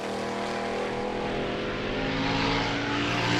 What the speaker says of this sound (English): Leland and Mason enjoying a solo pass in this run in the little front engine digger.